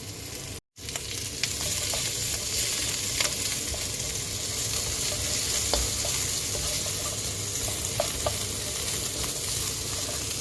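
Continuous loud sizzling of fatty meat browning in a hot wok for carbonara, with occasional scraping clicks from stirring after a brief cut at the start.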